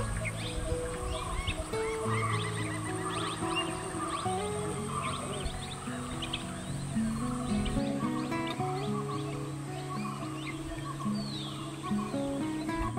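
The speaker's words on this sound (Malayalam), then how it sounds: "കിളികളുടെയൊക്കെ സൗണ്ട് മാത്രമല്ല," Birds singing in Muthanga forest in Wayanad, a steady layered ambience of chirps and calls with a continuous insect-like drone, no voices, even and moderately loud throughout.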